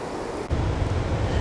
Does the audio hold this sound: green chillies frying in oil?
no